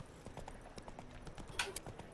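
Horse hooves clip-clop steadily in the open world of The Witcher 3 as a rider guides a horse, a quick even rhythm of hoof strikes, close and fairly loud, with a faint snort in the middle.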